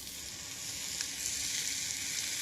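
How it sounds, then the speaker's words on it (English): Meat sizzling in hot oil in a pan while browning for a casserole, a steady, fairly quiet crackling hiss heard alone. "put the meat in, wait for the sizzle, spread it out in the pan"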